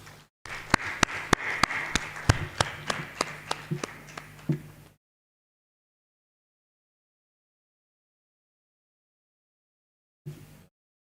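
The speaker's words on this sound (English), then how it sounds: "So one round of applause for him, please." A small audience at a stakeholder dialogue session claps for a presenter. About a dozen distinct, fairly close hand claps ring out in an uneven rhythm for a few seconds, then everything goes silent.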